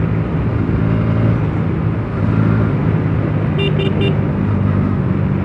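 A bike engine drones steadily along an open road with low, continuous rumble and wind, holding at a near, loud level with a brief dip midway and faint higher tones near the end.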